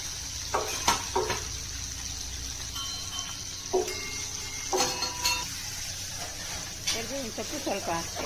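Finely chopped tomato fries softly in a pan over a low flame, giving a constant quiet hiss with occasional light stirring clatter, while a voice talks over it.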